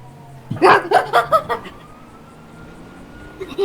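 Police car siren in the video game GTA 5, a faint steady wail running under bursts of laughter and excited talk from players.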